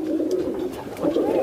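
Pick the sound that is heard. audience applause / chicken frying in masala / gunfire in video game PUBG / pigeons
pigeons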